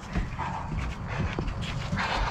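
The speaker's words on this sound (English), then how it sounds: "Oh, the doggies. Hi, doggies." Dogs panting and whimpering close by, a steady breathy rasp with small whines running through the whole stretch, with no talking over it.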